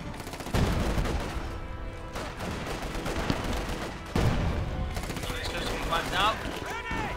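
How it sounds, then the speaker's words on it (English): Field gun barrage in Company of Heroes 2 during a 1v1 match: repeated booming shell impacts and bursts of gunfire rolling on through the clip, under a commentator's continuous talk. "we do see a field barrage going down here from the field gun"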